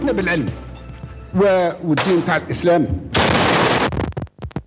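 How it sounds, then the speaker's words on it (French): A grenade explosion followed by machine gun fire at a political meeting in Algeria: a loud, harsh burst of noise breaks in after someone speaking, then sharp cracks trail off at the end. "a grenade exploded to one side, followed by machine gun fire"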